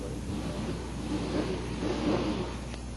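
Cars at a bracket drag race on a drag strip give a steady, broad engine roar with a low rumble, heard from a moderate distance with no clear speech over it.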